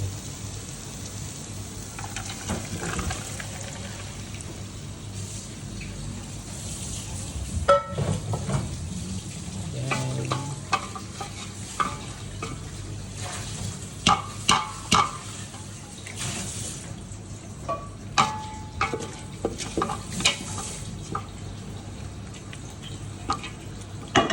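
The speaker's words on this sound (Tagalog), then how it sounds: "Lagay ko na ngayon yung munggo" Mung beans go into a pan of softened tomatoes and water, giving a steady watery sizzle and hiss broken by scattered spoon clicks and scrapes against the pan.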